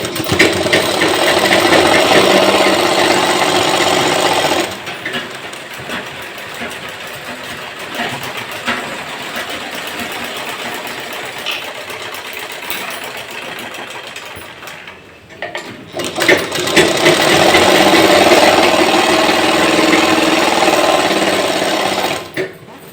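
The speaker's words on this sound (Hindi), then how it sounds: "इस तरीके से हम यहाँ पे सिलाई लगा देंगे। और ये सिलाई लगाते हुए हम पूरा नीचे तक आ जाएंगे।" A sewing machine stitches a seam on a pair of pants, running loud and steady in two long bursts with a quieter pause between them, and faint handling noise during the pause.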